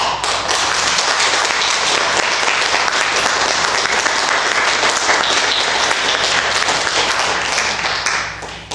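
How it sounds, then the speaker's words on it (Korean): A church congregation at a Sunday worship service breaks into loud, dense applause. The clapping holds steady for about eight seconds before easing slightly at the very end. "박수 쳐주시기 바랍니다"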